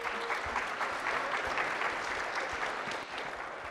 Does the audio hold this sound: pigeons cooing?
no